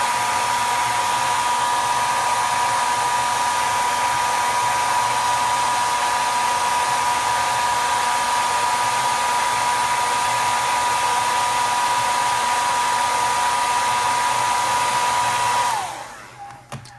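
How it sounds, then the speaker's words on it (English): A heat gun warming a rubberized Hogue grip on an M&P Shield pistol: a loud, steady blowing roar with a constant whine, running unbroken for about sixteen seconds before switching off and winding down. "I'll hit it with a heat gun for a little bit"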